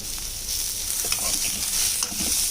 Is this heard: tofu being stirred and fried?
yes